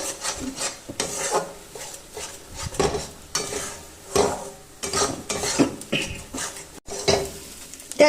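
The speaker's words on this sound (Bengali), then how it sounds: "ভালো করে এটাকে আমি এখন নেড়ে নেব একদম" Cabbage with turmeric being stirred in a pan for a cabbage bhorta, with repeated rasping scrapes of the spoon against the metal and a faint sizzle underneath, in uneven bursts throughout.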